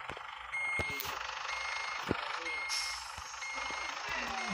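Faint, evenly spaced electronic beeps of a reversing road-train truck sound over a low engine rumble, with a few knocks and clunks around them as it hitches up.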